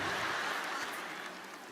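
Audience applause at a stand-up comedy performance: a soft, hissy wash of many hands clapping, heard from a distance and fading slightly toward the end.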